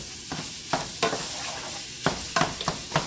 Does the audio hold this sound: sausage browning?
yes